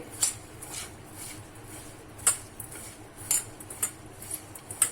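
A spoon mixing pepper powder, asafoetida and salt for capsicum potato bhajiya, heard as light, sharp clinks against a bowl at irregular intervals over a quiet background.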